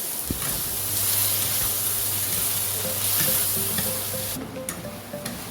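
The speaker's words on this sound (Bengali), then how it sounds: "এবার এটা দিয়ে কষতে থাকবো" Whole garam masala sautés in a pan with ginger, garlic and green chilli, making a loud, steady sizzle and hiss that keeps up throughout, with stirring scrapes.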